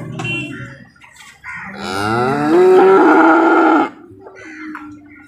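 A cow at a cattle market in Maharashtra lets out a long, loud moo, swelling in the middle before cutting off, with quieter background rumble before and after.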